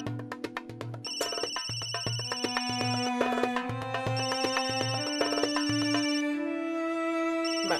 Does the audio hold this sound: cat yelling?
no